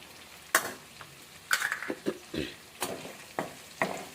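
Green chillies and curry leaves fry in a hot pan while being stirred, a steady close sizzle broken by several sharp scrapes and clinks of the spoon against the pan, no voices.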